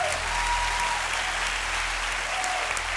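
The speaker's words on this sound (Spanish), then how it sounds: "Así que un fuerte aplauso para él." Steady applause from the audience at a Got Talent España 2019 semifinal, even and continuous, somewhat distant with a low hum underneath.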